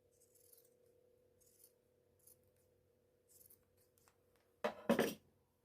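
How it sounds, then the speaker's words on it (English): Pinking shears snip through fabric while sewing a twist top, giving a short burst of loud, close crisp cutting crunches after a quiet stretch with faint background hum. "I'm just using my pinking shears."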